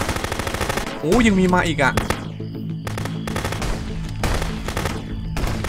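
Gunfire in the video game Contraband Police: sharp single shots and short bursts crack out at a steady pace, close and loud, while someone speaks briefly over them.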